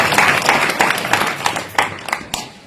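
Audience clapping for a young girl singer at a spiritual gathering, a fairly loud burst of applause with sharp individual claps that thins out toward the end.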